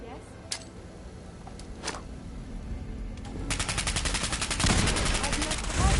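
Rapid bursts of sniper and automatic gunfire in the Fallout 4 video game, scattered single shots early, then a dense, loud volley of repeated cracks in the last seconds.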